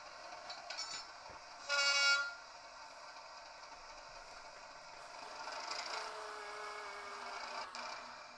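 A model railway layout runs with Shell TEA tank wagons, giving a quiet, steady rolling rumble interrupted by one short, loud toot of a train horn.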